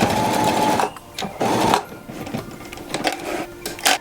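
A sewing machine stitches a seam along the edge of a fabric plastic-bag holder, loud close whirring in bursts that stop and restart with short pauses between runs.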